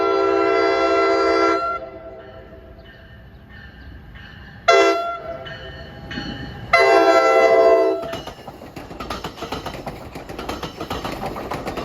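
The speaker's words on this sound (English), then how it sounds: "You can't beat the cab car horns on this railroad" Loud, close blasts from a cab car horn on a Hoboken-bound commuter railroad line, a long chord then short toots and another long blast, followed by rolling train rumble and clatter.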